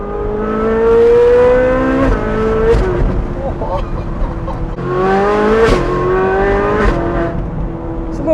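A Ferrari 458 Spider's 4.5-liter naturally aspirated V8 with an iPE exhaust accelerates hard in two pulls. The loud, close engine note rises in pitch through each gear, with a brief tire chirp between.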